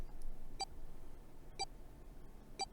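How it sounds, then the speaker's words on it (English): An electronic bracelet in the video game 999: Nine Hours, Nine Persons, Nine Doors gives short, cold beeps, three evenly spaced about a second apart over a low, quiet background. "His bracelet gave a cold electronic beep."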